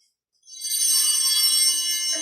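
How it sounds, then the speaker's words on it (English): A bright, high bell tone rings out at the communion table during a church service, starting after a short silence and sustaining with a shimmering ring, alone and clear. "So those bells go off"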